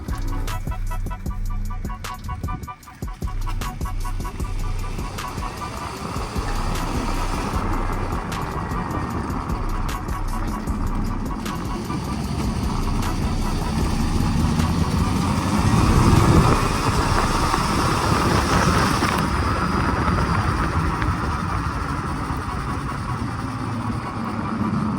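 An E Ride Pro SS electric buggy on its first test drive gives a steady, close drone with a broad rumble and a faint high whine that swells slightly midway through, continuous and without talk.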